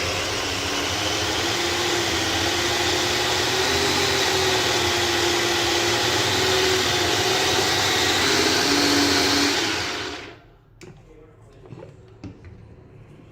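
A mixer grinder blends garlic and ginger paste with a little added oil, running as a loud steady whirring drone for about ten seconds before stopping, followed by quiet handling noises.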